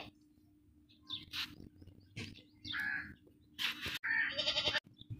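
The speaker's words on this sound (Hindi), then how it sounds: "बहुत ही ताकतवर बकरा है, बड़ी मुश्किल से काबू हो रहा है" A strong, heavy, castrated two-tooth sacrificial goat bleats loudly while it struggles against being held for a teeth check, with sharp, broken cries, some raspy, between bursts of scuffling.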